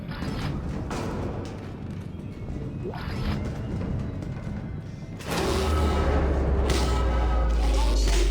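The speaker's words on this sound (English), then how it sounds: "Another spooky sound. An unbalanced washing machine." Eerie mechanical rumbling and creaking ambience from the Dead Space 2 video game, resembling an unbalanced washing machine, a low churning drone that grows heavier and louder halfway through with rattling thumps.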